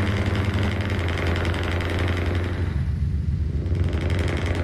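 A simulated truck engine in Euro Truck Simulator idles at low revs, around 1100 RPM, a steady continuous low drone with constant vibration that holds through the whole stretch without talk.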